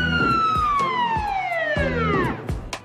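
A loud siren wail sweeps steadily downward in pitch over rhythmic low thumps, a sound effect on a game show.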